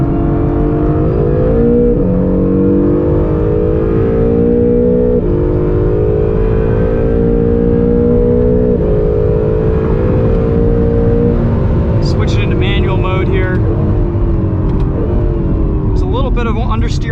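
A 2020 Acura NSX hybrid sports car driving hard on a track, its engine droning loudly and continuously with pitch rising and falling through the gears, heard from inside the cabin with a voice speaking over it.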